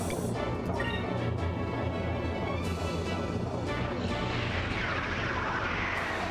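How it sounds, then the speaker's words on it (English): Torpedoes launch during a ship battle in Skies of Arcadia Legends, a steady, dense roar of rumbling blasts and crashing impacts with no pause, loud throughout. "The other two launch torpedoes"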